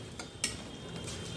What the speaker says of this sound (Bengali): এবার এই ফোড়নটা একটু ভাজা ভাজা হয়ে গেলে